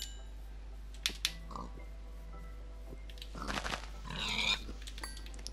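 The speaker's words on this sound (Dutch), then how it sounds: "En alvast eventjes een varkentje killen." Pig in a Minecraft survival game on PS4, with short grunts and squeals over faint clicks and game noises, and someone speaking Dutch in between.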